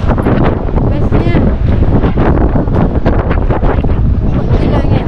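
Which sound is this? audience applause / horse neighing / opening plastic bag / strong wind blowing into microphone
strong wind blowing into microphone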